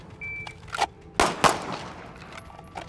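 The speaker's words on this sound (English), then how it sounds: "that's five shots with our dominant hand" Pistol shots from a Staccato handgun on a shooting range, a few sharp reports close together with some metallic ringing, followed by quiet.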